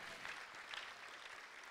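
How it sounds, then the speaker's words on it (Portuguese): A church congregation claps in praise, a faint, steady spread of many hands heard from a distance, unbroken and without talk. "salva de palmas para o Senhor Jesus"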